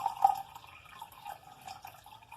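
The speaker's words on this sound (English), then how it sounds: "I'm going to go ahead and measure off a cup and a half of filtered water" Filtered water poured into a measuring cup, a short soft trickle and splash lasting a couple of seconds, close by and alone.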